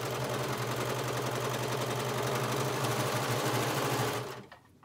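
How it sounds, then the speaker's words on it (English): A serger sews a seam on a long sleeved shirt, whirring steadily and rapidly up close for about four seconds before stopping abruptly. "I'm just gonna sew past where I started and then pull off the machine or chain off."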